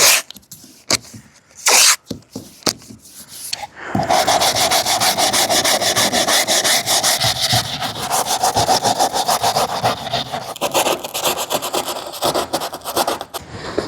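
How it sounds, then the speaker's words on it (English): A car panel sanded by hand with 180-grit Abranet, a few isolated scuffs and knocks at first, then a long, loud, rapid back-and-forth rasping right up close. "I'm going to lightly sand this down."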